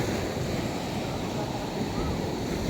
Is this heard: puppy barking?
no